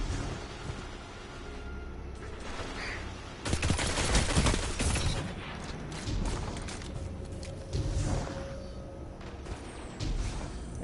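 Sustained machine gun fire from a stationary weapon in a PS4 video game rattles in loud, dense bursts that start and stop, close and harsh over mechanical background noise.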